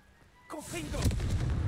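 A Confringo fire spell blast from Hogwarts Legacy bursts in after a brief quiet, a sudden loud explosive boom that rolls into a rumbling, crackling tail, with a voice speaking just before it.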